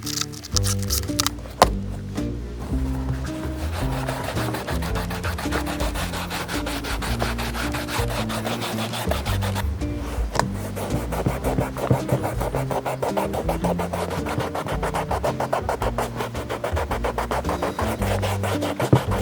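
Leather Jordan 5 Oreo sneaker wiped down with Easy Sweep cleaner, a close, continuous scrubbing and rubbing with rapid repeated strokes and occasional brief pauses, no talking.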